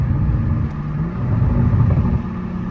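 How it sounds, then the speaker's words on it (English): A 2021 Toyota GR Supra with a catless downpipe: a deep, continuous exhaust rumble and burble close by, steady and fairly loud, with no distinct sharp pops standing out. "You can hear the pops and the burbles a lot louder too"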